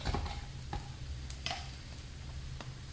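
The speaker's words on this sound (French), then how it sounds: "Je mélange les œufs" Eggs being whisked in a bowl in a home kitchen, a few sharp, irregular clinks of utensil against the bowl over a quiet low background hum, close and fairly soft.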